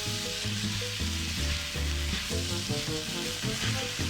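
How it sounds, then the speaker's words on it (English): Peppers fry in a sofrito vegetable base, a steady close sizzle with stirring scrapes and clicks, no voices. "We mix them one more time, preparing our sofrito or stir-fry vegetable base."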